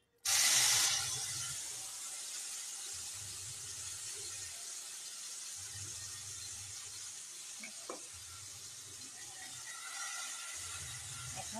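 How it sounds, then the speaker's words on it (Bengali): A ginger, onion and green chili paste hits hot oil with a sharp initial hiss, then keeps up a steady close sizzle, broken by regular low scraping strokes of stirring in the pan. "এখন এই আদা পেঁয়াজ আর কাঁচা লঙ্কা বাটাটা ভালোভাবে কষাবো"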